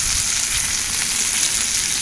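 Steaks sizzle loudly and steadily in a hot oiled frying pan, a constant crackling hiss with no voices.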